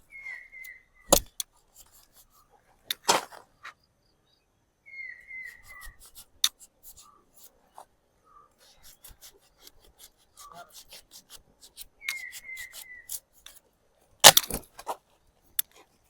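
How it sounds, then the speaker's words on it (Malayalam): A knife cuts through a piece of taro (chembu) root in scattered crisp scrapes and sharp cracks, with a few louder snaps between quiet pauses, close by and without talk. "അപ്പൊ നമുക്ക് ഒരു പീസും കൂടെ കട്ട് ചെയ്യാം."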